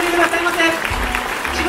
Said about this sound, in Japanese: それでは大きな拍手でお送りくださいませ。